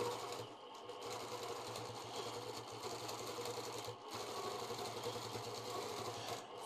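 A sewing machine stitches in the ditch on a quilt, a quiet fast steady whir and rapid needle clatter running continuously, with brief pauses near the start and middle.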